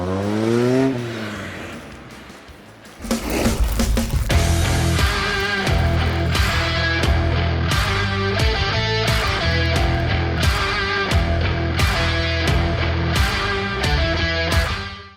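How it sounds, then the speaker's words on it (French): A Renault Clio 1 and a turbo car accelerate hard in a drag race, engines roaring close and loud with rising revs and sharp gear-change breaks repeating in a steady rhythm. "C'est parti pour la drag race contre la Clio 1."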